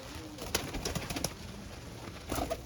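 Pigeons coo in a loft of flying and breeder birds, soft low calls in a few short bursts near the start and end over a faint steady background hum.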